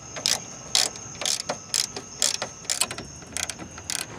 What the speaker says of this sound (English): So I get the hood latch mechanism bolted up.